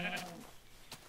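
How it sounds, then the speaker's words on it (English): Sheep in the Minecraft video game give a short bleat at the start, followed by faint game ambience and a brief later blip, quiet overall. "Oh, sheep. I don't need sheep."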